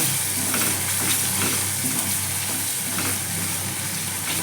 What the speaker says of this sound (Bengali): মশলাটা দিয়ে দিলাম মশলাটা আবার ভালো করে ভেজে নেব